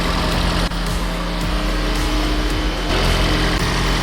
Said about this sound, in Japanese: 今ね、エンジンをかけてエアコンもついてる状態です。